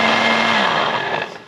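A 600-watt blender runs on its first speed setting, a loud steady motor whine that holds evenly and begins to wind down near the end, with no talk over it.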